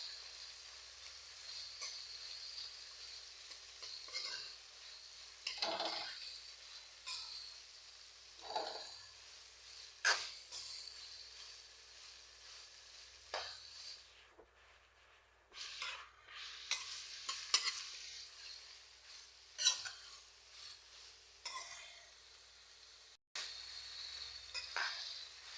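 Two long-sliced onions sauté in a pan while a prawn pepper fry is being cooked. A faint, steady sizzle continues throughout, broken by intermittent scraping and clinking stirs against the pan.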